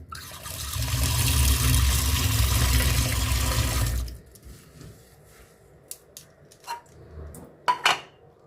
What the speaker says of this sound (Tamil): முருங்கைக்கீரை வாஷ் பண்ணிட்டு